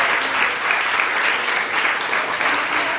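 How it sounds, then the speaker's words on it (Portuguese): A church congregation applauding during a sermon, with dense, steady clapping from many hands and no break. "Quem venceu, aplauda ao Senhor."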